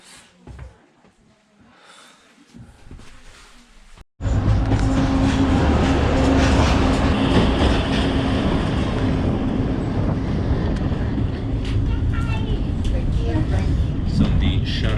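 An old wooden train wagon rolls along the Šargan railway in the Balkans, a loud, steady rumble and clatter of wheels on track starting abruptly after a few quieter seconds and continuing unbroken.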